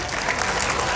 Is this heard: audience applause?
yes